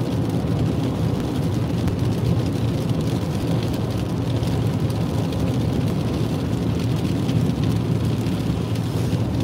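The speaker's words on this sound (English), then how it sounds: "The rain is picking up again." Rain builds while a vehicle drives along a highway toward Oroville, steady road rumble and tire roar blending with a constant wash of rainfall, loud and unbroken, with no voices.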